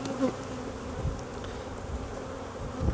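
Honeybees in an open beehive during an inspection make a dense, continuous buzzing hum, close by and steady, with no talk.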